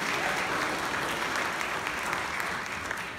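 Steady applause from a church congregation at a Palm Sunday Mass, dense and even throughout with no talking.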